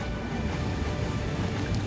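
Light rain falls on a river shore, a soft, even hiss of drops on water and ground that holds steady and fairly quiet throughout, with no voices.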